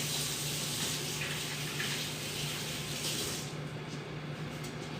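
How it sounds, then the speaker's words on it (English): Running tap water pours steadily into a sink as hands are washed in a home kitchen while lamb chops and vegetables are being prepared; the even, hissing rush holds throughout with no talk. "Second, I'm going to wash my hands."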